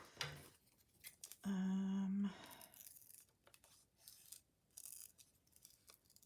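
Scissors snip out a paper coloring page for a glue book, with short crisp cuts and rustling paper. A brief humming tone stands out in the middle, and a voice speaks quietly around the cutting.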